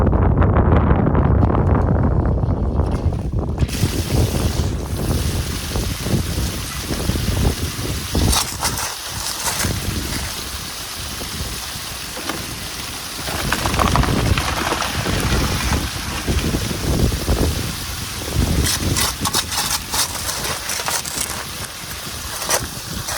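A homemade highbanker gold sluice runs outdoors at a river bend, with a steady, broad rush of pumped water pouring over the sluice that stays loud and even throughout, with occasional gritty splashes and no talking.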